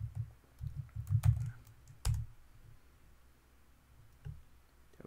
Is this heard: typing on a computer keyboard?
yes